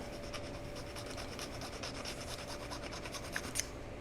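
A nano glass file rubs over a small scale model part, giving a soft, fast rasping scratch at close range with a couple of sharper ticks near the end, no voices.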